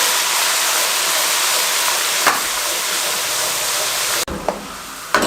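Onions, whole spices and garlic ginger paste fry on a medium flame with a steady, loud, hissing sizzle and brief scraping stirs, with no talking.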